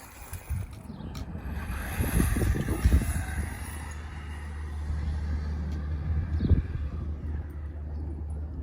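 An Axial Yeti RC car fitted with bellcrank steering drives outdoors with a steady motor rumble, then clatters in rough bursts around two to three seconds in and again near six and a half seconds as it tumbles.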